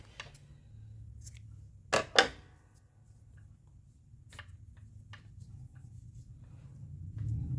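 A couple of sharp scissor snips stand out over a quiet background, with a few lighter clicks before and after.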